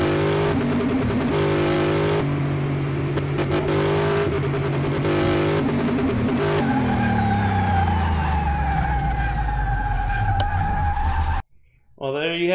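A 2005 Ford GT in a racing video game holds a loud, steady high-revving engine drone at top speed. The engine then winds down in falling pitch before cutting off abruptly near the end.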